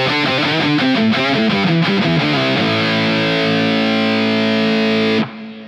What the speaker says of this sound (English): now you'll be able to hear the standard tuned guitar as well as the octave tuned down guitar as well